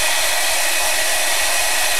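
A hair dryer blows loud and steady at close range, a continuous roaring whoosh drying a painted art journal page.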